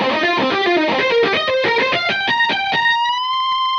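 Distorted electric guitar lead from the Arturia Pigments synth run through amp effects, playing a quick run of bright, gritty notes that ends on a single sustained note ringing out alone.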